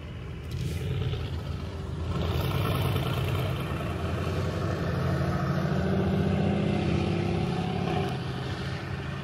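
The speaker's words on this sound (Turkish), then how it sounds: "Bakalım Kaan abi basarsa da bir egzoz sesini duyarsınız" A car engine and exhaust rumble low and steady, swelling slightly as it revs, heard fairly close with no talking.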